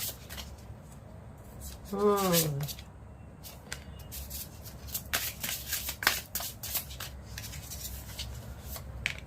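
Tarot cards are shuffled and drawn by hand, with soft rustling, riffling and card slaps close by, partly under a voice speaking.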